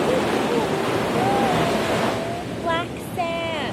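Ocean surf at Black Sand Beach in Piha, New Zealand, a steady broad roar of breaking waves with wind, while people talk over it near the microphone.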